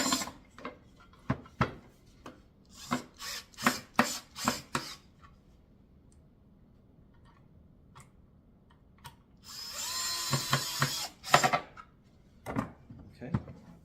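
A cordless drill drives Phillips screws into a wooden kids' chair, heard as repeated short whirring bursts close by, a longer sustained run in the middle and scattered clicks between.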